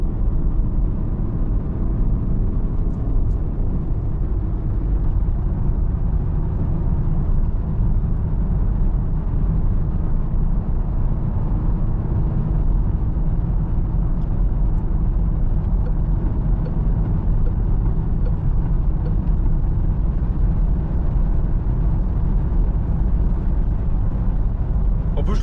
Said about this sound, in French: On accélère un peu avec ce petit 3 cylindres. Il fait un beau bruit d'ailleurs